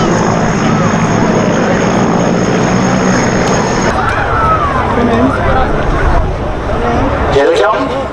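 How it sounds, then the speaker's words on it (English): Aircraft flying in formation at the Duxford Air Festival in gusty wind, a loud droning propeller engine roar with shifting pitch as they pass, over crowd babble and a voice talking. "Again, wonderful formation in tricky wind conditions, again bouncing around, but superb flying."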